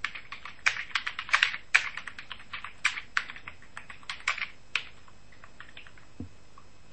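Quick bursts of keystrokes on a computer keyboard, irregular clicks with short pauses, close and fairly quiet, no voices.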